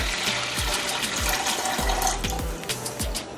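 Water splashes and trickles steadily into a pot while horse gram soup is cooked in a kitchen, with a close, continuous pouring sound and small clinks.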